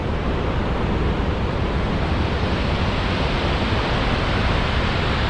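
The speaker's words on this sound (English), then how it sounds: "those waves are breaking a long way out" Steady broadband roar of surf breaking far out on the beach at Tunstall on the Holderness coast of Yorkshire, a constant wash of waves under wind with no voices.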